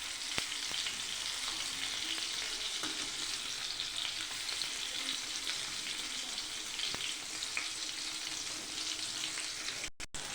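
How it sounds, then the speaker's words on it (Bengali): Ash gourd with spices stir-fried in a pan, a quiet, steady frying crackle with intermittent stirring scrapes and small knocks throughout, close and even. "এইভাবে ঘুরিয়ে ফিরিয়ে ভালো করে ভেজে নেব আমি"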